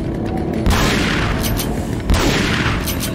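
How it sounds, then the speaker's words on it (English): Two loud, close blasts about a second and a half apart, each a sharp boom with a rumbling tail over a dense, noisy game soundscape, from a shotgun firing in Resident Evil 4: Separate Ways. "That was a waste of a shotgun bullet."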